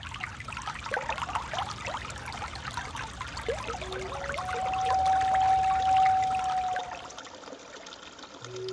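Sacred water pours in a steady, close trickle that swells into a fuller stream midway before easing off, with a faint sustained tone running through it and no voices.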